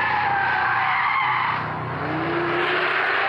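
Alpine A110 sports car with a 252-horsepower engine on a race circuit, tyres skidding and squealing loudly under a roaring engine for a few seconds.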